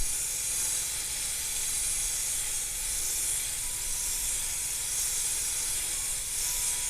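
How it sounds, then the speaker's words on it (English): Kitchen sink sprayer hose spraying tomato seeds to wash off the pulp, a steady close hiss of water running without a break and with no talk. "And I just spray them until that pulp dissolves."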